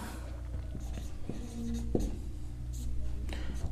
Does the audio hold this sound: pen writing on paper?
yes